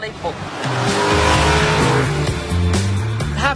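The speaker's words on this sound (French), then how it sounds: "le bruit de ce V8 est incroyable." A Lamborghini Urraco's V8 engine roars and revs loudly up close, its deep rumble rising and falling, with a voice talking over it.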